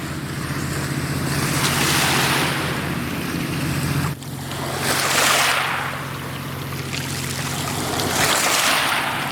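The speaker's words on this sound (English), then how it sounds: "here's the waves from the towboat." Towboat wake waves wash onto a river shore along the River road out of Alton, Illinois, in broad rolling surges that rise and fall, mixed with steady wind noise and a low engine hum.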